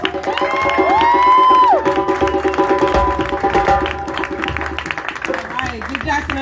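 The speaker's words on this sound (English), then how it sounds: "another round of applause" An audience at a West Palm event applauds and cheers loudly, with shrill whoops and shouts rising over the clapping before it thins out, and voices talking through it.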